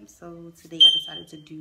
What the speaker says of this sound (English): And then my smoke detector needs a new battery.